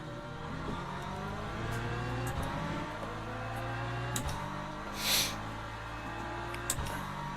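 An LMP2 prototype race car in Le Mans Ultimate passes close by, its engine note rising and falling in steady gear changes under the constant drone of the player's own car, with no talk.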